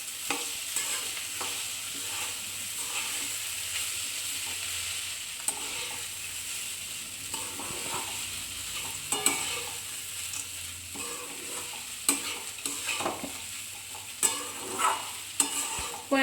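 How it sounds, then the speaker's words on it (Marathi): A spoon stirring a kanda poha mixture of flattened rice and onion in a pan, with soft scraping strokes and occasional sharper clinks of metal against the pan over a faint low sizzle, no voices. "आता छान मिक्स करून घेते"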